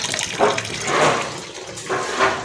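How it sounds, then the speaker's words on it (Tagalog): Water splashes and runs in uneven bursts, close by, rising and falling over a couple of seconds with no voices. "Tubig, yun yung tubig."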